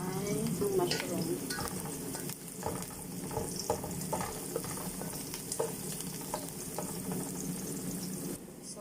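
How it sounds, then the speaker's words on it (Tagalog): Mushrooms frying in a pan for pancit noodles, a quiet, steady sizzle with soft scrapes and clinks of stirring scattered throughout, heard close up against a low background rumble. "Tapos, ang ilalagay ko una ay ang mushroom."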